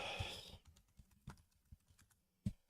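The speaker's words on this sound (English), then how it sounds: "let's type sprite sheet" Quiet keystrokes tap on a computer keyboard in a short, irregular burst, a few soft clicks close by with a louder final keypress and no talking.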